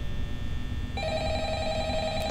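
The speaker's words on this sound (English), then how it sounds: "Do you pick up the phone or you just let it ring?" Telephone in Five Nights at Freddy's beginning to ring partway through, a steady electronic tone over a low rumbling background hum.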